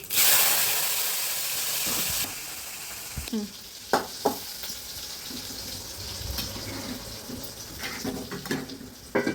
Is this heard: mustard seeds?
yes